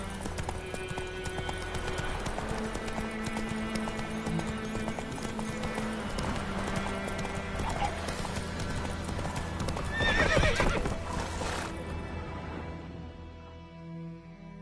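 Roach, a horse in a PS4 video game, gallops with a steady, close clip-clop of hooves, and a loud whinny rings out near the end before the hoofbeats fade.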